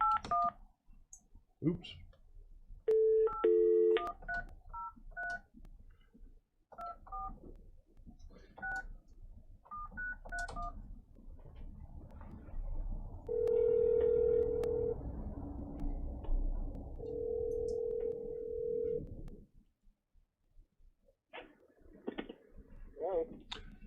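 A call-in line at a county board meeting is dialed with a quick series of keypad tones, followed by two longer ringing tones over a faint hum, with a brief quiet voice.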